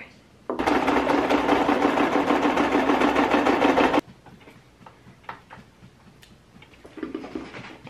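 A sewing machine runs steadily for about three and a half seconds, stitching a folded dress strap, then stops abruptly, leaving quiet handling noises.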